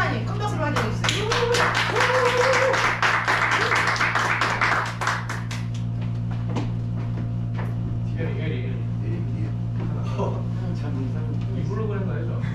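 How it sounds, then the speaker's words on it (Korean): An audience at a seminar in a hall applauds for about five seconds in a dense burst of claps, then the applause fades and a voice speaks over a steady background hum. "큰 박수로 환영해 주세요."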